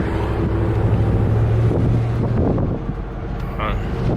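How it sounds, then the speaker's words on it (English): Steady wind rush roars past the microphone of a Cadillac Escalade fitted with a Corsa Sport exhaust, driving in traffic, a broad continuous buffeting with a low engine drone underneath that eases slightly toward the end. "Oh, we get nice wind."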